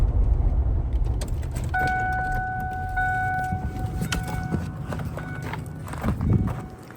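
A Ford Crown Victoria cruising at highway speed with loose lug nuts on one wheel, steady road and engine roar with faint rattling and clicking over rough pavement, no voices.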